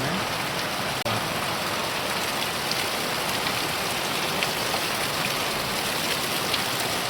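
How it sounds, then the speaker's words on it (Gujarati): Dense, heavy rain pours nonstop in a loud, even hiss, spattering on hard surfaces nearby, with no voices over it. "બહુ જબરજસ્ત વરસાદ છે"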